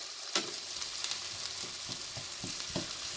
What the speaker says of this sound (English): So let me mush it up a little bit.